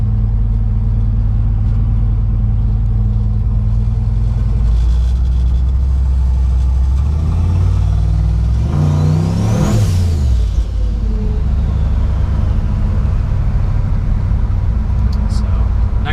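Holley Terminator X Max–equipped truck engine revving hard, a loud sustained rumble that swells and climbs in pitch near the middle before settling back, with voices talking over it.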